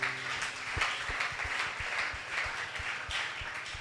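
A church congregation applauds in praise of Jesus, a dense, steady wash of many hands clapping together, with a low regular beat pulsing underneath.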